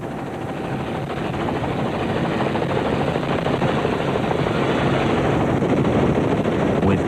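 A helicopter approaches over open, unfenced land during a desert rally, its rotor drone steady and loud, rising slightly as it nears.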